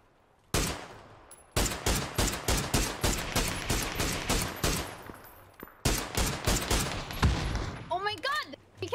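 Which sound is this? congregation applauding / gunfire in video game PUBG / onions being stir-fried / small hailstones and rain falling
gunfire in video game PUBG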